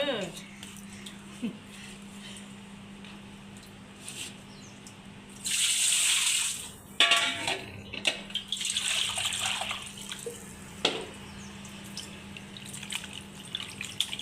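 A brief gush of running tap water splashes for a second or two as raw chicken is washed, surrounded by a person talking and small handling sounds.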